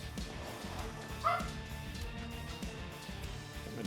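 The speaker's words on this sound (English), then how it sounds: "My dog's barking." A dog barks a few times in the background of a kitchen where a smoked spatchcock turkey is being prepared, the yaps faint and brief over steady room noise.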